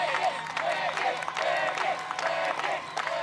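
An American Ninja Warrior All Stars crowd applauds and cheers for an athlete in a continuous wash of clapping, with a commentator talking over it.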